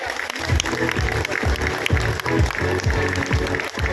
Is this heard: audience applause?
yes